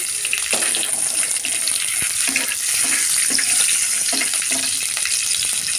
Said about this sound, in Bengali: রসুন কুচিটা আর লঙ্কা কুচিটা একটু লাল লাল লাল লাল করে ভেজে নেব